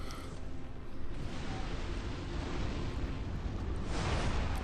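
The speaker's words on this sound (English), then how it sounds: "So right here it's gonna explode up on the ground." An explosion erupts from the ground in the Elden Ring Shadow of the Erdtree Messmer boss fight, a loud, sustained roaring rumble that fills the whole stretch without a break.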